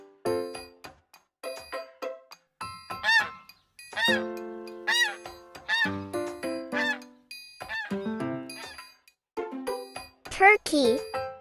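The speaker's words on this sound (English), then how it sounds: "goose," A sequence of nasal goose honks, several short calls in a row, alternating with a voice naming animals over light background music.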